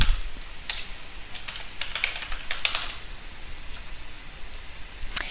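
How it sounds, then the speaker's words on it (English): Fingers tapping out an email address on a computer keyboard, a quick irregular run of light clicks and taps over faint room hiss, close and fairly quiet with short pauses between bursts. "to sign into the EquityMint platform, you just type in your email address"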